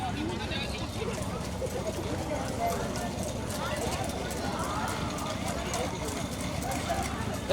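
Bullock carts racing on a rural road, hooves drumming in a steady rapid clatter amid rolling wheel noise and crowd din, with voices shouting throughout.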